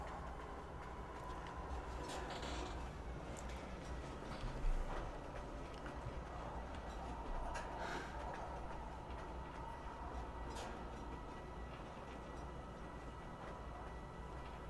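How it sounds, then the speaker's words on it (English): Train in Star Citizen slowing down. A steady low rumble of rolling rail cars with faint clacking continues throughout, moderately quiet and with no voices. "Train slowing down."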